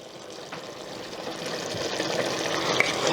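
Lemon juice poured into half-cooked vegetable dum biryani in a pot, a soft continuous liquid trickle that grows slightly louder, close and with no talking.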